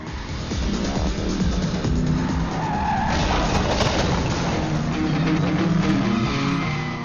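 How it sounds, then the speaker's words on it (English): A car speeding through Berlin streets in a chase, tyres skidding and squealing through sharp turns over a loud, constant engine roar, close and intense throughout. "He speeds through Berlin streets, taking sharp turns and making near escapes."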